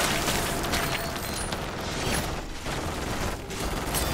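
A turret fires continuously in Modern Warfare Zombies, a dense, rapid mechanical stream of shots with rumbling booms, loud and sustained throughout.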